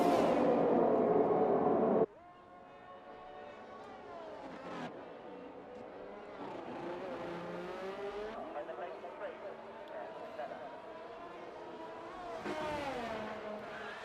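An F1 race car in the F1 23 video game runs through the Monaco tunnel at night. The engine whines and shifts pitch as it climbs through the gears, and a commentator talks over it after a loud opening burst.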